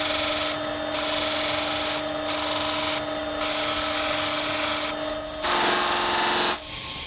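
A power tool with a steady motor hum polishes a steel paring knife blade, grinding on continuously with brief shifts in tone as the blade is worked against it, close and loud with no talking.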